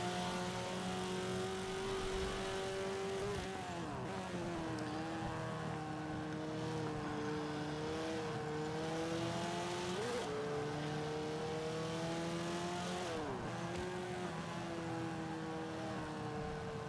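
Engine of a 2005 Subaru WRX, B class, racing in Forza 5, a continuous rising drone broken by three gear shifts. Fairly faint, with no talk over it.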